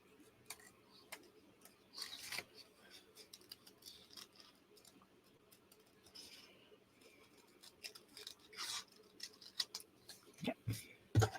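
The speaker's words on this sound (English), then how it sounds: "Not crazy to think just how much easier it is with the smaller scissors." Small scissors snip through paper scraps in short, scattered cuts, quiet and close, growing more frequent toward the end against a faint room background.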